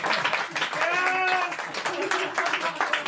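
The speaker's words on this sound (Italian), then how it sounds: "Applauso per forza." An audience at a rap battle claps and cheers in a scattered burst while a voice talks over the applause, followed by a drawn-out vocal cheer.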